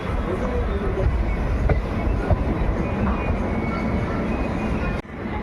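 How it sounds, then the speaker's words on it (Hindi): An express train pulls out of Sri Dungargarh railway station, a steady loud rumble of wheels and carriages with faint clatter throughout, ending in a sharp dip near the finish. "तो कुछ देर रुकने के बाद ट्रेन डिपार्चर हो रही है श्री डूंगरगढ़ रेलवे स्टेशन से"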